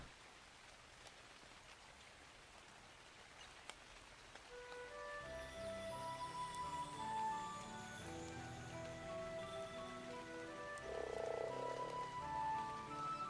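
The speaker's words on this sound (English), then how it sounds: "You got the sound of this frog in there." Repeated croaking of a frog by a pond at a base in the ARK video game Star Wars mod, steady and moderately near over a soft rain-like ambient wash.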